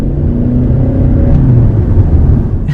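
A Lexus ES300h hybrid sedan with a CVT accelerates, heard from inside the cabin as a steady low engine rumble and road hum that rises slightly, with no talking.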